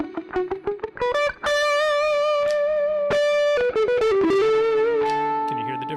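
Electric guitar played on its bridge pickup, heard as a quick run of picked notes leading into a sustained, bright, effects-laden tone with a chorus-like shimmer, loud and alone.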